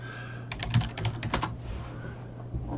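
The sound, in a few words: typing a password on a computer keyboard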